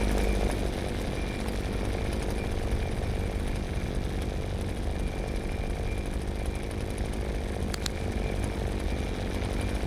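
A droning chainsaw engine belonging to the killer in the horror game Hollowbrook Apartments runs continuously at an even level, with a brief sharp click near the end and no voices.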